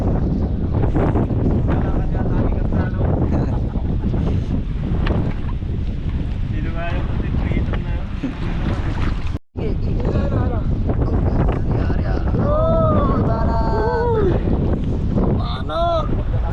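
Strong wind at sea roars across the microphone in a constant heavy rush during night net fishing, with water and boat noise underneath and a voice now and then.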